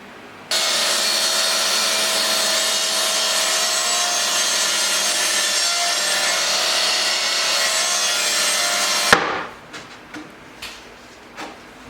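A saw cuts steadily through wood at an angle against the fence in a farmhouse workshop, a loud, continuous rasping drone for about nine seconds that stops abruptly, followed by a few light knocks and clatters.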